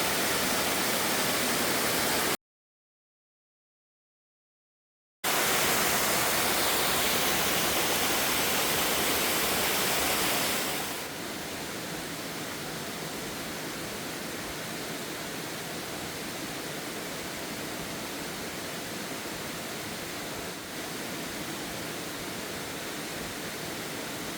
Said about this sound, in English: And still the waterfall goes.